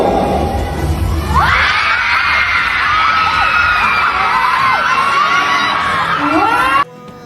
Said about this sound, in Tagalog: grabe din ang hiyawan ng mga tao